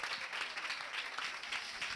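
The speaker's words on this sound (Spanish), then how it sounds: "¡Fuerte el aplauso!" Audience applause at the closing session of a symposium, a dense, steady patter of many hands clapping that holds at a moderate level throughout.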